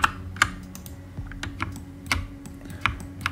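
Computer keyboard keys are pressed for a Blender shortcut, several crisp clicks in an uneven rhythm, close and clear, with no talking.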